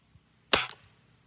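A single sharp shot from a Beeman 1022 dual-caliber air rifle fired at a box target, loud and close, with a quick decay after the crack and no voices.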